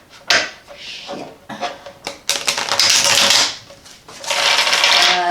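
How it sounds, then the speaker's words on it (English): A tarot deck is shuffled in quick riffling bursts of card flutter and snapping. The bursts are close and fairly loud, with short pauses between them. "I'm having trouble shuffling today."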